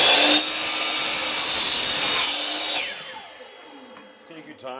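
A hand saw cuts through a long metal rod for a Halloween prop, loud rasping back-and-forth strokes for about two seconds, then slowing and fading into scraping and light clatter.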